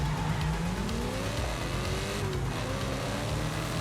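A Volkswagen car engine in Forza Horizon 5 revs with its pitch climbing and dropping through gear changes: a close, steady motor drone without talk.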